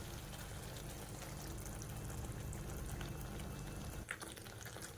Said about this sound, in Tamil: இப்போ தேங்காய் பால் வந்து ஊற்றிக்கிறேன்